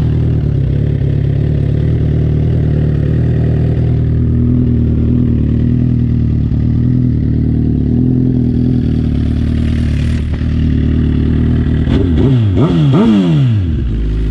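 A Suzuki GSX-R 1000 K9 sport motorcycle idles steadily and close by for several seconds, then gets a few quick throttle blips near the end that rise and fall sharply.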